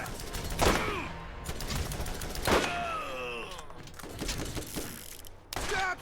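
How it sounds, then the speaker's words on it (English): Gunfire in Borderlands crackles in irregular volleys, mixed with sharp impacts, whooshing zips and mechanical clatter, loud and close throughout. "Stop shooting."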